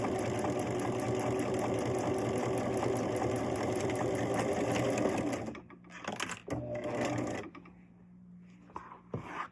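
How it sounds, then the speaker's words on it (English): A sewing machine stitches a sawtooth quilt block with a steady, close mechanical whir for about five seconds, then stops, followed by a few short bursts and quieter handling sounds. "I'm stitching on the line or right next to it."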